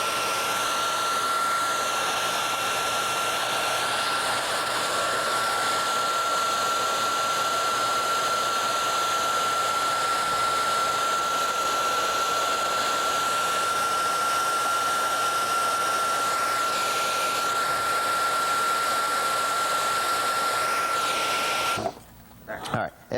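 A hot-air heat tool blows on a circuit board area being prepared for socket installation, a loud, steady whooshing hiss with a constant high whine, running for a long stretch before cutting off sharply with a brief clatter.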